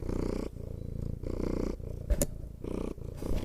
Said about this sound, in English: Here's some cat purring.